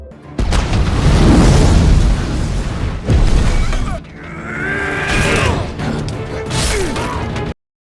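In a ship battle from the Avatar film, a deep booming explosion tears through with crashing debris and metallic creaks, then a second burst with rumbling, scraping mechanical noise and shouts before a sudden cut to silence.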